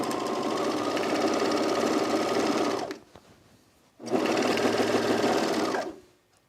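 Serger running a 4-thread overlock stitch along a dress seam, two loud steady whirring runs with a brief pause between them, close and alone.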